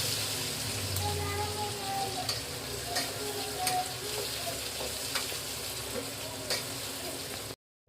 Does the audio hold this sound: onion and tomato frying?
yes